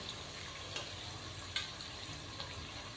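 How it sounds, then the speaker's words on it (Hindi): Finely chopped onions fry in a pan for vegetable pulao, giving a quiet, even sizzle with a few faint scrapes or clicks; close, with no voices. "प्याजों को हमने नाजरीन लाइट ब्राउन करना है।"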